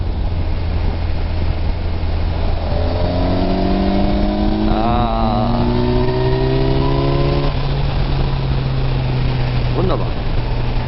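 Kawasaki Versys 1000 SE motorcycle engine, nearly new, pulling smoothly as it accelerates, a steady rising drone under wind noise and a talking rider.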